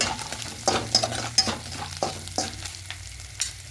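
Bay leaves, asafoetida and whole spices (cardamom, cloves, cumin) are stirred in hot oil; a spoon scrapes the pan in repeated sharp strokes over a steady background sizzle.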